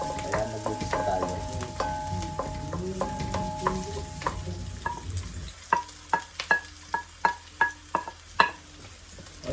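Garlic and onion frying in a pan, sizzling steadily while a utensil stirs. After the midpoint the sizzle thins and sharp rhythmic scraping and tapping knocks against the pan take over.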